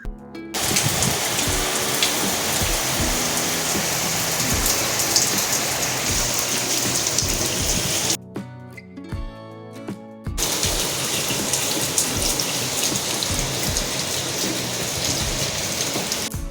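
Steady rain pours and patters on a surface nearby, broken once by a short quieter gap before the downpour resumes; no one speaks.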